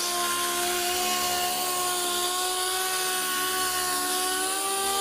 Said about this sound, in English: you can actually feel the sander speed up and slow down